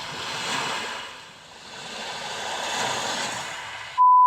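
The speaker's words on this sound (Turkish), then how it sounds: "Sakin deniz dalgaları var." Calm sea waves play as an ambient soundscape inside a Kia EV6 cabin, a soft, swelling wash of surf rising and falling gently, ending abruptly with a steady tone.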